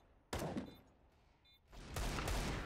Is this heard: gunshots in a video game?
yes